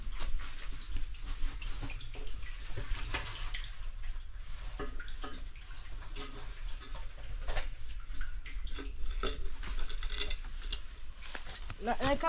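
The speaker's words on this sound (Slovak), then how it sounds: "stade vyteká voda z bane." Water trickles and gurgles steadily out of an old gold mine adit outdoors, a constant close rushing flow with occasional splashes and light handling noise throughout.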